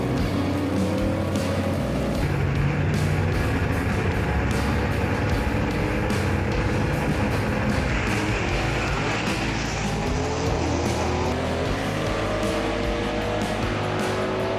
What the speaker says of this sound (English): Randy Kiefer, the number 2 qualifier here today, is going to be in the quick-time performance lane in his Pontiac Chieftain right here.